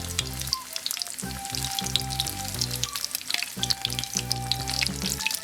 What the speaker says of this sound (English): fry these meatballs by keep turning them as they become slowly golden brown